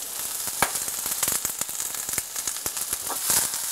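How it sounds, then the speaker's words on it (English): Onion and ham frying in butter in a pan give a steady close sizzle, dense with quick crackling pops and spits, with no voices. "So we're adding some butter to the pan. I'm going to add a little onion, just a little handful."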